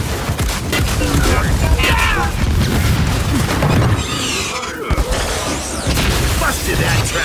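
A trap is destroyed in Gears 5 during a dense firefight, with heavy booming impacts, gunfire and crashing debris layered over continuous battle noise, and a voice calling out amid the chaos.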